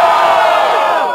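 A crowd yells and cheers together at a semifinal freestyle rap battle in Brazil, a dense, loud burst of many voices rising after a verse that fades slightly toward the end.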